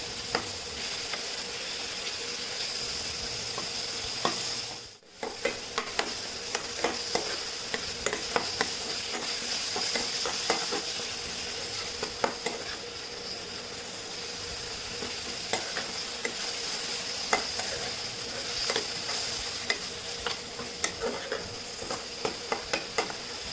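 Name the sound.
chopped tomatoes frying and being stirred in a pan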